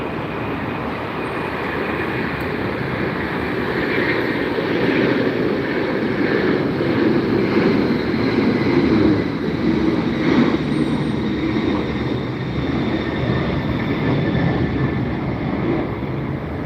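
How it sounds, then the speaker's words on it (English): Jet engine roar from cargo planes and an Airbus A380 at Los Angeles International Airport, a loud, continuous rumble that swells and holds as aircraft pass, with no talking. "I love these cargo planes and the big A380s"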